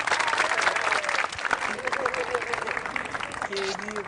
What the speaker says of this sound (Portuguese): Uma salva de palmas para Elisa Lucinda.